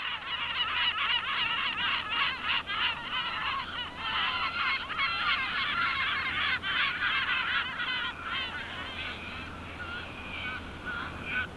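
Audouin's gulls call on the Sardinian coast of the Mediterranean. Their repeated, rapid nasal cries overlap in a steady, fairly faint chorus with no voices.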